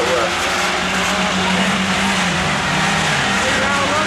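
Race cars skid and roar together around the Sayre Speedway oval, a dense, continuous wash of engine and tire noise that stays loud throughout, with a voice talking faintly underneath.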